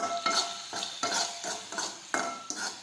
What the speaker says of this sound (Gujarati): ફરી પાછું આપણે સાતળી દઈશું આ રીતે